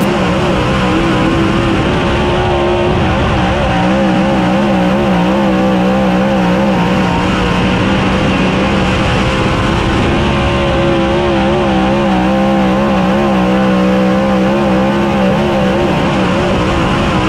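Race cars roar through the start of a heat race on a dirt track, engines loud and continuous with layered revving and pitch changes as the field gets underway.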